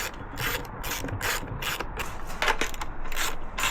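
Bolts being tightened on the airbox of a Yamaha WR125X dirt bike, a close, steady run of rapid ratcheting clicks in short bursts, with no talking.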